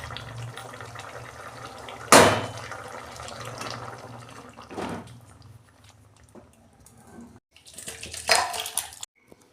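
Water is drained off boiled potatoes: a continuous running pour with sharp splashing surges near the start, middle and end, close by and moderately loud.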